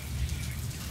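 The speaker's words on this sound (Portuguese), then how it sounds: "Ué, vamos ficar na chuva?" Rain falling steadily, a dense continuous patter with a low rumbling wash underneath, fairly loud and unbroken.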